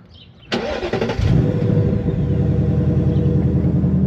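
Ford Mustang Dark Horse firing up with a sharp crank and bark, then settling into a deep, rumbling idle from the exhaust, close and fairly loud and running steadily alone.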